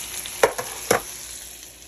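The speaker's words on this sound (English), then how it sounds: "the steak is on and it's about ready to flip" Steak frying in a hot pan, a steady close sizzle with two brief sharper crackles spaced apart, no voices.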